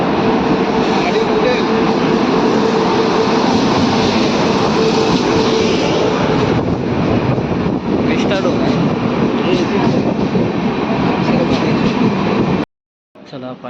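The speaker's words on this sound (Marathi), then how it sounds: "गाडी आली आमची, आता गाडीत बसतो आणि मुंबईचा प्रवास." Jan Shatabdi Express rolling into a station on the Kudal to Dadar route, a loud sustained rumble and roar of the passing train that drops off sharply at the end, with a voice talking over it.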